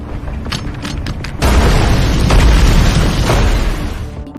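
Explosion effect from a film about invincible alien monsters and a Hellhound creature: a loud, sustained blast that swells abruptly and rumbles deep and heavy for several seconds before slowly easing, with no talk.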